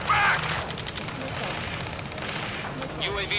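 Sustained automatic gunfire chatters throughout an Ace Combat 7 mission near a space elevator, a loud, continuous rattle of rapid shots with heavier booms mixed in and voices calling out over the battle.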